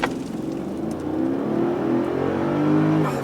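A Mercedes-Benz S550 4MATIC with a V8 and 7-speed transmission accelerating at full throttle. The engine makes a smooth, steady rising drone heard from inside the cabin, fairly muted and refined.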